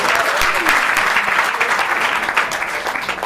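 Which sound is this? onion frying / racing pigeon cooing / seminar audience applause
seminar audience applause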